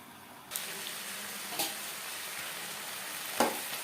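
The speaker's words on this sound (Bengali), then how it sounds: "ডালের সাথে চাল বেশ ভালো করে মিক্সড করে দেব।" New atap rice being stirred into lentils in a pot for Bengali egg khichuri, a soft steady scraping and sizzle with a few sharper spoon knocks on the pan, close and alone.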